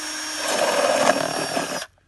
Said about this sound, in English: similarly I just make another hole in the other end with the drill